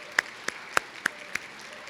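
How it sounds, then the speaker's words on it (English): Scattered, separate claps from an audience at a nursing pinning ceremony, a handful of sharp hand claps spaced out over a couple of seconds rather than a full, dense round of applause. "I think we should give a round of applause to all of those who helped you all get to where you are"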